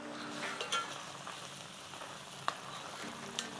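Cream and pepper jack cheese being stirred in a pot for queso dip, a soft continuous sizzle with faint scraping and a few light clinks of a utensil, no talking.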